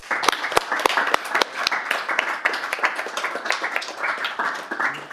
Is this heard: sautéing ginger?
no